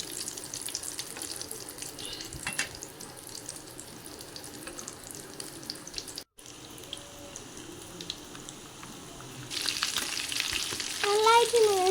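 An egg cutlet sizzles in a pan with a constant crackling hiss, a brief break midway, then louder spattering and running-water-like rush toward the end as it is turned and cooked on the other side.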